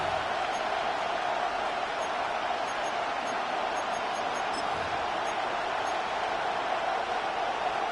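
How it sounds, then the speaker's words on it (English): Crowd at Arrowhead Stadium in a Madden football game roars as a steady broad wash of noise, loud and continuous throughout, with no distinct voices standing out. "The crowd at Arrowhead roaring."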